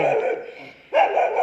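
A dog near a school building gives two drawn-out, howling barks in close succession. The sound is loud and near, with a brief dip between the calls and no talking over it.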